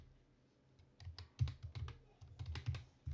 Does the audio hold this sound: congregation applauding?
no